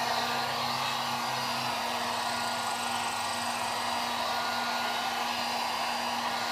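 A hair dryer blowing hot air onto a dented plastic panel, running as a steady loud whooshing hum with a constant motor whine and no pauses, alone and up close.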